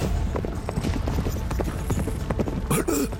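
Horses' hooves clip-clop in a quick, busy rhythm in a children's animated series, mixed with loud cartoon sound effects. A brief voice-like burst comes near the end.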